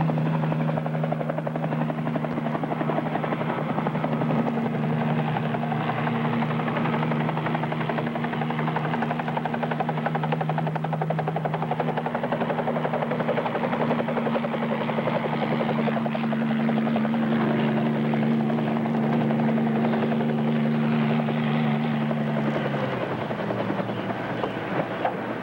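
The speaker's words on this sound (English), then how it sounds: "I think arriving by helicopter will make an impression" A helicopter in flight drones steadily and loudly throughout, its rotor and engine tone holding constant before dropping slightly near the end as it settles.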